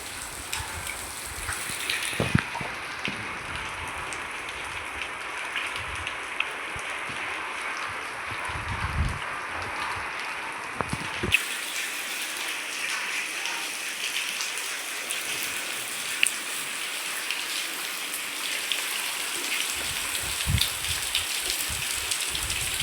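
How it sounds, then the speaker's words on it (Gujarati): Heavy rain lashes down in strong wind, a loud, continuous roar of dense drops on surfaces that runs unbroken for the whole stretch, with occasional sharper knocks and slight swells, and no voices. "તો વરસાદ ને પવન તો ફૂલે ફૂલ છે."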